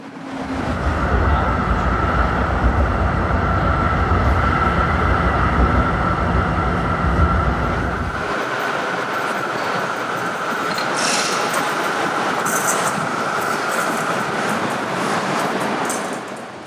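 A Melbourne B-Class articulated tram running on its rails, a steady close rumble and rolling rail noise with a low drone that drops away midway, under a narrator's voice.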